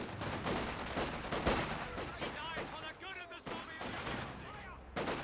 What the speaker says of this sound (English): The M3 is firing away.